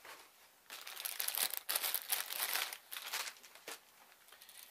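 A plastic bag crinkling close up while a toy is unpacked, irregular crackling bursts with brief pauses, loud and alone with no talk.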